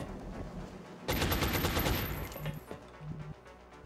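Sustained automatic suppressive gunfire from the tactical strategy video game XCOM, starting abruptly after a second of low background and rattling loudly in rapid bursts before trailing off with scattered shots.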